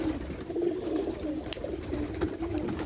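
Pigeons coo softly and steadily in a pigeon loft, the low repeating calls layered over faint background noise. A few light clicks and rustles come through.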